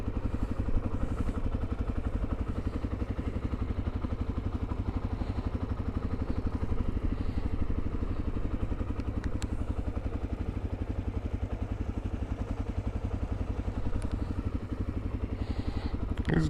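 Motorcycle engine running steadily as a learner rider feathers the clutch and modulates the throttle, a continuous close mid-pitched chug with slight revs and faint clatter.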